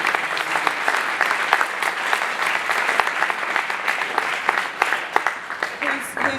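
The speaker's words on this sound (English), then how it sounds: "a huge thank you and a big round of applause for Tracy Norman" An audience at a festival award night claps in a steady, dense burst of applause that carries on without letup.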